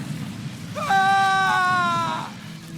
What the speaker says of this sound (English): Scream, weakling. I want to hear your suffering.